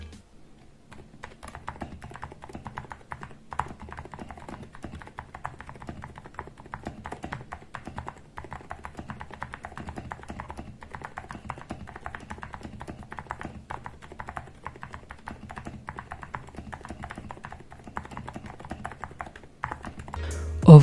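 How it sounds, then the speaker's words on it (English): A TM680 mechanical keyboard fitted with silent switches and a polycarbonate plate, typed on continuously for about twenty seconds, giving soft, muted, rapid keystroke taps close by, with no talking. "And now the same silent switches and same keyboard with a polycarbonate plate."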